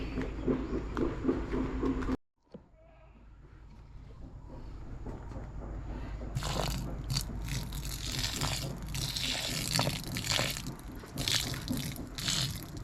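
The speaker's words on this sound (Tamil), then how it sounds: "நம்ம வந்து கொஞ்சம் போல் தண்ணி ஊற்றிட்டோம்" Water is poured onto chicken feed, a splashing, crunchy wet sound that stops briefly after two seconds and then returns louder and more textured until the end.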